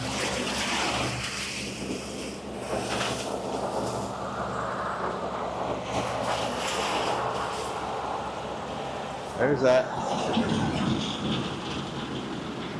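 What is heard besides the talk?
tractor engine running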